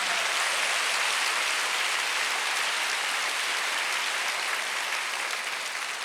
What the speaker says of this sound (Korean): 박수 박수 박수 박수.